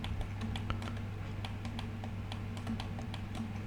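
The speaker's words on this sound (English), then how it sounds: "we hit the dot key in our numpad, and it got centered in our display or viewport" Computer keyboard keys, including the numpad dot key, tapped while working in Blender: a series of light, sharp clicks at an irregular pace over a steady low electrical hum.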